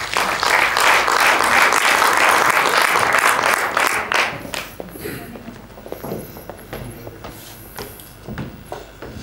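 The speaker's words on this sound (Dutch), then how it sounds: "Geef ze een applaus." Loud applause from a large audience at an awards ceremony, dense clapping that swells and then thins out into scattered claps.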